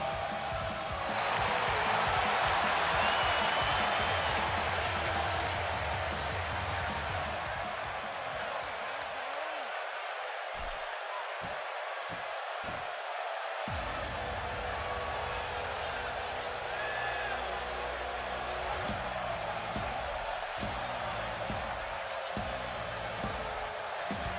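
A steady crowd buzz fills a large wrestling arena in a video game, a loud continuous murmur with occasional thumps and brief dips, with no clear voices standing out.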